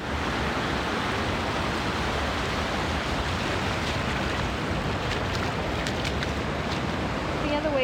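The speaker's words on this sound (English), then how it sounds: "See how the waves are coming in?" Ocean surf rolling in at Belmont beach in San Diego, California: a steady, loud broadband wash of breaking waves with wind, continuous and unbroken for the whole stretch.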